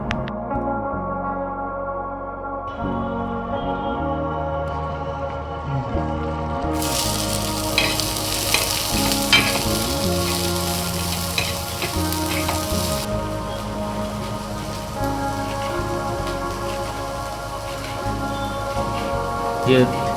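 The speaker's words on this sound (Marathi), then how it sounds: "मी तावा ठेवलाच त्याच्यावर तेल टाकलं थोडंसं ते आता जरा भाजून घेतो" Spices for mutton vajadi masala roast in a little oil on a hot tawa, a steady broad sizzle and crackle running through the whole stretch, brightening and growing louder midway, with a speaking voice over it.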